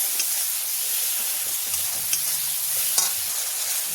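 Ginger and garlic paste with ground spices and turmeric sizzles steadily in a pan for fish curry, a close, continuous frying hiss broken by faint stirring scrapes, with no talking.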